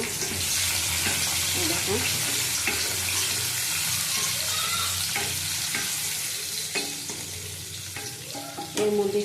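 Tomato paste hitting hot oil with tempered spices in a pan while cooking pointed gourd: steady loud sizzling with irregular scraping and clinking as it is stirred, and a brief spoken phrase near the start.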